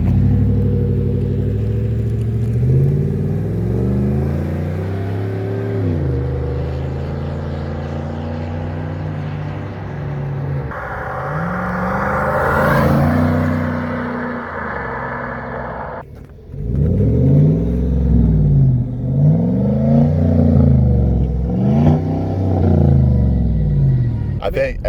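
A Chevy Silverado with a 5.3 engine and an MBRP 3-inch aftermarket exhaust idles with a deep, loud rumble, then revs hard in repeated rising and falling bursts near the end, with people talking nearby.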